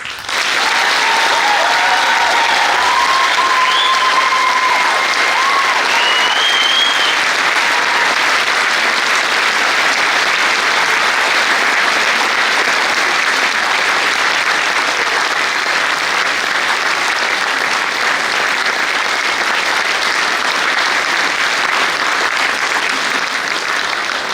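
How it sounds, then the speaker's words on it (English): Sustained, dense applause from a large audience cheering graduates at a graduation ceremony, a steady wash of clapping that holds evenly throughout with a faint voice at the start. "please join me in applauding our graduates."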